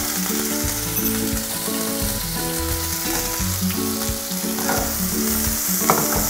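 Red curry paste frying in a pan for a chicken curry pasta, a loud, dense, continuous sizzle and crackle up close, with occasional stirring scrapes and no talking.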